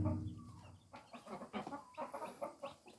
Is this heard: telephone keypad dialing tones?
no